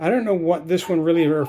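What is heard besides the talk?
No everyday noises stand out.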